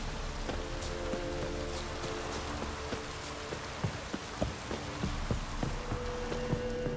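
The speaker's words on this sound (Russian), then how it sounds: "Дождь собирается." Steady rain hisses in The Witcher 3: Wild Hunt video game, with scattered drops tapping under a soft background hum, and faint clip-clop steps mixed in.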